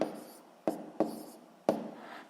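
Pen or pencil writing numbers by hand on paper, a few soft scratchy strokes with short pauses between them, close and quiet, with no talking.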